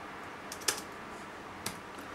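Keys tapped on a Logitech Ultrathin Keyboard Cover, a thin keyboard case for a tablet, with two sharp, isolated clicks against a faint background hiss and no voice.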